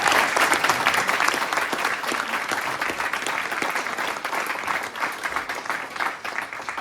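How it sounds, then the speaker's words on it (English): An audience at a maritime science education center welcome ceremony applauds its staff, dense steady clapping from many hands filling the room at a sustained, loud level throughout. "So can we give a round of applause for our staff?"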